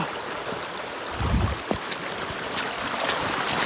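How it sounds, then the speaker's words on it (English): Floodwater in Chesterfield rushes through a gate and a fence with a constant broadband roar. A brief low thump and a few faint splashes rise above the steady wash of the water. "Water's just flowing through gate there, through fence even."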